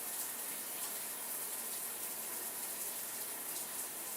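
Hot water running steadily from a tap, a continuous hissing gush with no pauses, moderately close and fairly quiet.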